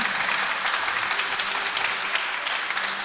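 An audience at a Jain nun's religious discourse breaks into steady applause, a dense, even wash of many hands clapping together for about three seconds without a break.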